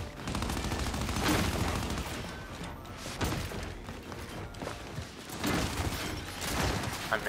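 Rapid gunfire from the Gears 5 video game, with bursts of automatic fire, thuds and heavy impacts in a dense, loud, continuous stream of shots.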